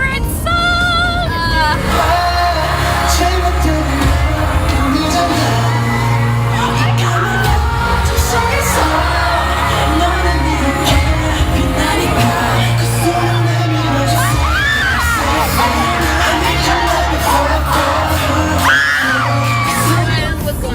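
A big arena crowd at a concert screams and yells without letup, high-pitched shrieks and whoops swelling in waves over thumping music, loud and dense throughout.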